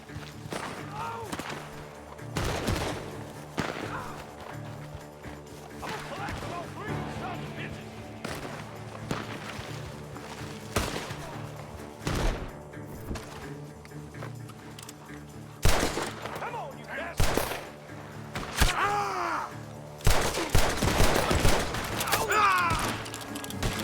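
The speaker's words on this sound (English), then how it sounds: "The gunshots are coming from that barn." Gunfire coming from a barn in the western game Red Dead Redemption 2: repeated sharp shots and cracks in irregular bursts, some distant and some louder and closer, over ambient game noise with occasional voices.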